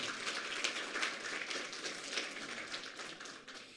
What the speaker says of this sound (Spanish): Vamos a dar una vez más, por favor,